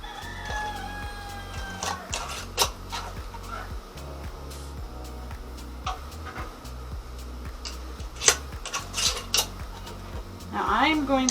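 Glass canning jars clink and knock against a metal pot on the stove while re-canning bulk groceries, a run of sharp, scattered clatters over a low steady rumble, with a brief rattle near the end.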